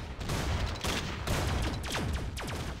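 Rapid bursts of gunfire from the Roblox zombie-shooting game Zombie Rush, a steady crackle of repeated shots running the whole time, loud and close, with no talk over it.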